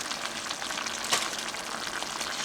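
Okra cooking down in a pan, a steady broadband sizzle and hiss that holds at an even level throughout, with one brief louder pop or stir sound near the middle.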